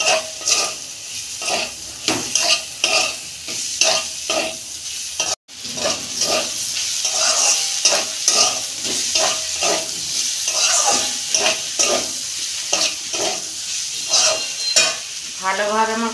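Mixed vegetable curry sautéed in a pan, with loud repeated scraping strokes of a spatula over a constant sizzle, the stirring rhythm steady and close throughout.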